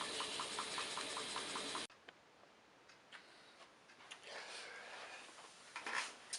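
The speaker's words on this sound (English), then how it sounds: "so there we go, running on steam, gas fired" A gas-fired steam engine runs with a quick, even ticking beat that is loud and close at first, then drops abruptly to a much fainter background with occasional clicks and knocks.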